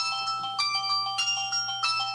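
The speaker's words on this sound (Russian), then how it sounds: "Ну вот видишь, что тут звонит" A phone rings with a repeating electronic melody of bright tones, a steady rhythmic pattern playing alone throughout.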